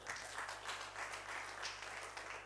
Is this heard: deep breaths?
no